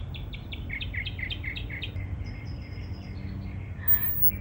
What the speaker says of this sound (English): It's so relaxing to listen to the birds sing